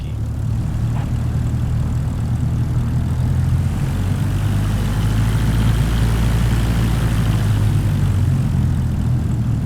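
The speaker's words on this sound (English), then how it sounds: "Taxiing to general aviation parking." A Cessna 172 light airplane taxiing to general aviation parking, its propeller engine droning loud and steady at low power without a break, close to the microphone.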